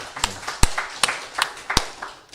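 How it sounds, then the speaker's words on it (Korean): Church congregation gives a short welcoming applause for visiting families during a Sunday service, with a handful of sharp, scattered claps spaced apart rather than a full dense ovation. "환영의 박수 한번 드리겠습니다"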